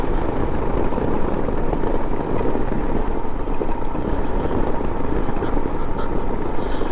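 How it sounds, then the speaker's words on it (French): Steady, loud engine drone and rumble from a vehicle driving along a small mountain road, with continuous wind buffeting across the microphone throughout. "maintenant nous allons rouler jusqu'au bout de cette petite route de montagne"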